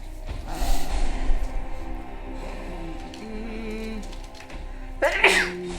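A single sneeze bursts out near the end, loud and close, after a few seconds of quiet room sound with faint movement and breathing during a tabletop game session.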